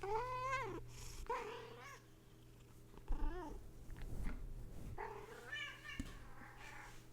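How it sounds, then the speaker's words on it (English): A pet cat gives several meows with a soft purr in between, heard close up and fairly quiet, with no talk over it. "my cat says hello. Here, can you hear them?"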